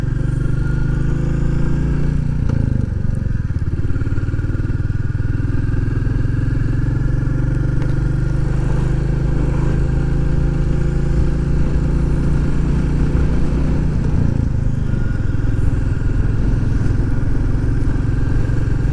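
A Royal Enfield Classic 350 motorcycle rides along roads in the Peak District, its single-cylinder engine a steady, loud, continuous drone with faint gear changes and road rumble throughout, no talking.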